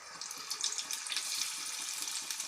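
Unniyappam batter made with Nutrimix goes into hot oil in an unniyappam pan over a medium flame, giving a steady, soft, broad sizzle and crackle with no talking.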